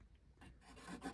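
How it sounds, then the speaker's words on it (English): Cut-off nubbins on a metal replacement arm for a Haslab Ion figure are sanded flush, giving a quiet, close rasping rub in short strokes that grow slightly louder toward the end. "I'm just gonna sand them real quick to make them just more flush and smooth."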